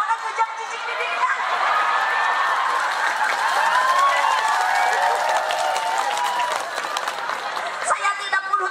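Applause from a live audience at a humorous Sundanese religious lecture, a dense wash of clapping mixed with crowd chatter and voices, steady and fairly loud throughout.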